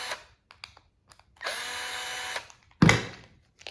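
A power drill spins out screws from a Yamaha 2WD/4WD actuator with Phillips and Torx heads, one sustained whir of about a second followed by a short sharp burst, with quiet handling clicks between.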